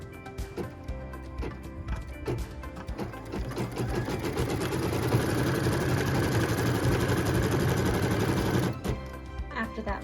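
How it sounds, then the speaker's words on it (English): A sewing machine stitches a line across a quilt block, starting with a few short bursts and then running in a steady continuous whir before stopping. A voice talks over the stitching. "we can stitch that first line"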